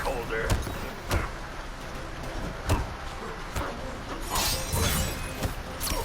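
Mortal Kombat fight effects ring out, with repeated sharp hits and then a bright shattering burst as an ice ball attack strikes, alongside game noise and voices.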